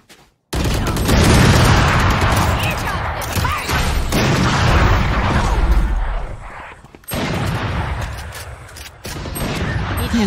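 Loud, dense bursts of gunfire and explosions from a battle-royale shooter match on a Mumbai server, with sustained rapid fire and heavy booms over most of the stretch after a brief quiet start, dropping out briefly twice.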